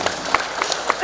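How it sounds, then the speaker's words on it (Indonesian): A crowd at a 2019 political education session for legislative candidates in Blitar Regency applauds, a short burst of close, dense clapping with a few sharper individual claps. "Maka tepuk tangan untuk caleg-caleg legislatif Kabupaten Blitar."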